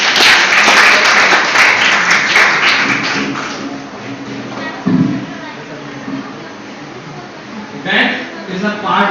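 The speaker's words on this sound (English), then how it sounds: "Let's give a round of applause for Anirudh." A school debate competition audience applauds a student speaker, dense clapping that swells loud at first then thins out, with a voice speaking over it and a brief second burst near the end.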